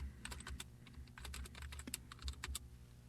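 Fingers type on a computer keyboard while writing code for a Flash ActionScript 3 ping pong game, producing close, quick irregular clicks in bursts over a low steady hum.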